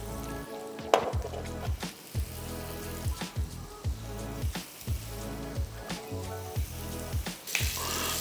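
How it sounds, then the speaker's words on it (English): Paneer sears in a hot pan with a loud, steady crackling sizzle, broken by regular rhythmic clatters of stirring or turning, with no talking. "I'm going to be searing off my paneer here"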